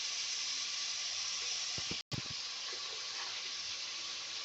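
Onion, green chillies, coriander and curry leaves fry in hot oil with a loud, steady sizzle that fills the whole clip, broken once by a brief dropout near the middle.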